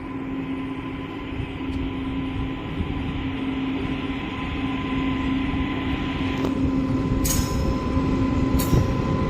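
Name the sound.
Botad–Bhavnagar passenger train starting to move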